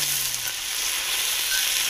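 Chopped onion stirred and fried in a pan over a wood-fired stove at a nighttime campsite, giving a loud, dense, continuous sizzle heard up close with no talking.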